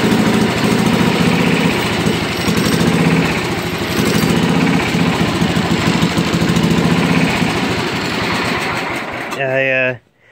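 An old Super 12 tractor engine, fed from its gas tank, runs at a steady, close, chugging idle throughout with someone talking over it, then shuts off abruptly at the end.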